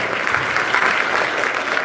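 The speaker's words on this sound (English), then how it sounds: "Can you give a big round of applause to people?" An audience applauds continuously, a thick and fairly loud wall of clapping with no voices over it.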